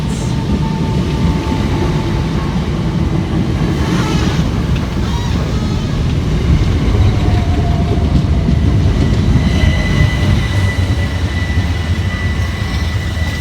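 A Southeastern Class 376 electric multiple unit, running as two coupled sets, arrives at Waterloo East station with a loud, steady rumble and rail noise that holds throughout, close by and without any talk.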